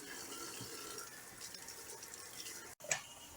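Pork pigtails for collard greens being rinsed under running kitchen tap water, a steady soft gush of flowing water with faint splashing and a brief clatter near the end.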